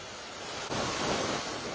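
The flooded Mutha river, swollen by a heavy discharge from Khadakwasla dam in Pune, rushes past as a loud, continuous roar of churning water with wind buffeting the microphone and no voices.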